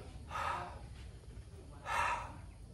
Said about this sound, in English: is to have a double exhale